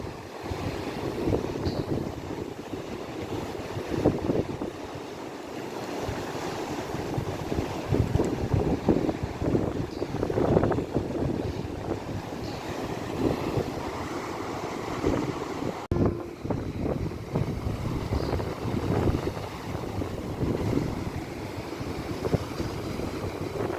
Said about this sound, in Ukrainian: Море сьогодні таке бушує. І піна літає.